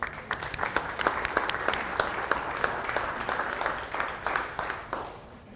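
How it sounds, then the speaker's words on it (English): An audience at a Kutztown 2024 speaking event breaks into a sustained round of applause, steady clapping from a large crowd filling the space. "we just give you a huge round of applause"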